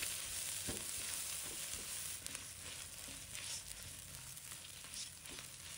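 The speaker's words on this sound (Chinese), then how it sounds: "随后将葱姜放入锅中，" Scallion and ginger stir-frying in shrimp oil in a wok, a soft, steady hiss of sizzling with occasional faint stirring clicks, fairly quiet and heard alone.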